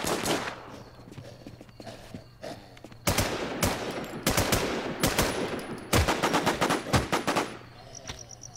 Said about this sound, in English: Who the fuck shooting with a Mosin?